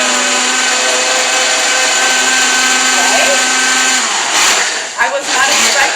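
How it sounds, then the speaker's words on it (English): A kitchen blender whirs loudly and steadily as it purees fresh herbs and oil into Argentinian chimichurri, the motor pitch shifting partway through as the blend loosens, then sputtering briefly near the end. "now it's time to blend everything together"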